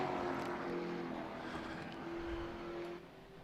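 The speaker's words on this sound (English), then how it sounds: "let me know if those car sounds are too loud" Race cars at Kern County Raceway Park during a Short Track Showdown Series event, engines droning steadily at a distance with a sustained, slightly wavering roar and no nearby voices.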